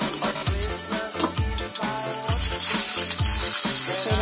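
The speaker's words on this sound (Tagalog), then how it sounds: "lagi po natin uunahin yung sa may bandang balat ng bangus sa pagpiprito" Milkfish (bangus) steaks fry skin side first in hot oil, giving a continuous loud crackling sizzle layered over a steady, rhythmic musical beat.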